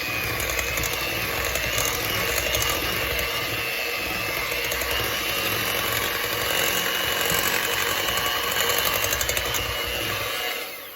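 Pecan pumpkin bread batter being mixed with a power mixer, a loud, steady, close whirring motor drone held for the whole stretch.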